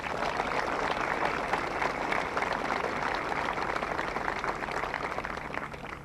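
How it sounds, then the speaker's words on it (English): An audience at an Honor Flight ceremony applauds in a steady, dense burst of clapping that holds evenly for several seconds, fairly distant and without speech over it. "Let's give them a round of applause."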